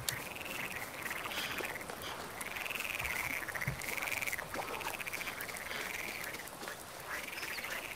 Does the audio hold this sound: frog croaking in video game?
yes